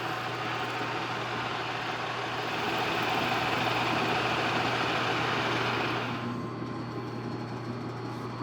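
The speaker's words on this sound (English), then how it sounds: "I'm gonna take a piece of high-speed steel and hand grind up a really sharp piece" A piece of high-speed steel is hand ground into a sharp cutting tool on a running grinder, giving a steady close whirring hum with a broad grinding hiss that eases off near the end.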